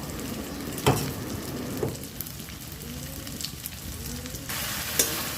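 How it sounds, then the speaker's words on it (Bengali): Tomato paste fries in hot oil with a continuous sizzle, broken by a few sharp spatula knocks against the pan and a brief surge of crackling near the end. "এইবার টমেটোর পেস্টটা দিয়ে দেব"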